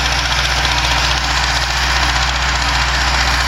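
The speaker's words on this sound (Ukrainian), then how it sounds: "Ось і до нас приїхав трактор вже пахати." A tractor engine rumbling steadily at close range while ploughing a field in the evening, a constant low mechanical drone with rhythmic knocking and no voices.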